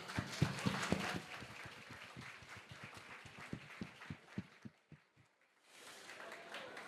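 A small group claps a round of applause at a student union officer election results announcement, with quiet, closely spaced claps that thin out and stop after about five seconds, followed by near silence and faint room noise.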